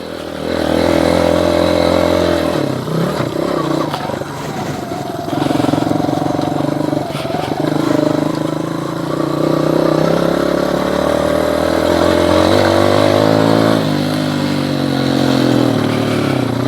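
A Skybike Liger 2 motorcycle accelerating while riding over dry grass and straw: a loud, continuous engine drone that rises and shifts in pitch as it pulls through the gears, close and unbroken throughout.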